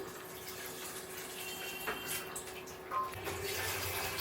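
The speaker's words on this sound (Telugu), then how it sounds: "ఒక లీటర్ పాలు పోసానండి" A litre of milk is poured into a pan for custard fruit salad, giving a soft, continuous liquid stream at moderate distance, steady throughout, with a faint hum underneath.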